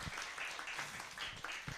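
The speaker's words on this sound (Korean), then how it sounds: "한 번 더 박수 치겠습니다." Applause from a church congregation at a Timothy School dedication service, honoring a visiting elder; a short, steady patter of hands with a few louder claps, fairly quiet and continuous.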